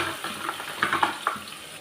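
Mustard seeds, fenugreek and shallots sautéing in a pan for Tamil fish curry, a soft steady sizzle with light crackles and a few scraping stirs, close and fairly quiet, no talking.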